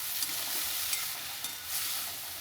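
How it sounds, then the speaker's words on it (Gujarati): Green chickpeas frying in a pan for a Gujarati masala snack, stirred steadily with a spoon over a continuous close sizzle, with light scraping strokes and no talking. "આપણે બધું મિક્સ કરી લઈ"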